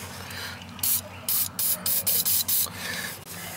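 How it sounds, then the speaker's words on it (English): Penetrating lubricant is sprayed onto the bolts of a Trackless MT5T snowblower in a close series of six loud aerosol hisses, each lasting a fraction of a second, over a steady background hum. "Spray the bolts right down."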